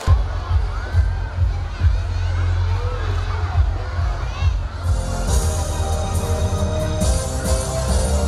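Cheering and clapping from a crowd of children at a primary school ceremony, a steady roar of young voices with applause rising sharply in the second half, close and loud, with a voice speaking over it.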